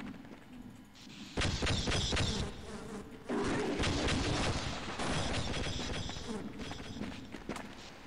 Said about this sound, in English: This gun is alive. It shoots bees.